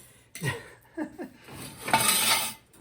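An old snow blower gas line, a light tube, clatters and bounces across a hard floor in a few rattling hits, ending in a brief scraping skitter.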